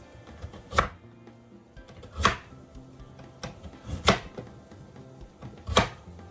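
A knife chops vegetables for pumpkin soup down onto a board four times at uneven intervals, each a dull thud, with quiet kitchen background in between.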